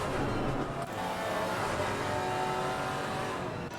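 GT4 race cars running close together at Barcelona in a racing game, a continuous engine drone with revving, heard fairly steady and loud with no talk.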